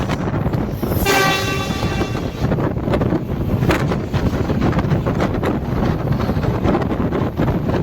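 Indian Railways train 16535 Golgumbaz Express at Nimbal station, heard as steady broadband rumble with wind buffeting the microphone and a brief tonal horn or brake squeal near the start, continuous and fairly loud throughout.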